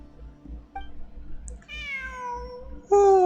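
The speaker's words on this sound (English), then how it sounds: "It really is a cat." A cat in Genshin Impact gives several meows, starting with short faint calls and building to a long, drawn-out meow and a loud, close final one, with no talk over them.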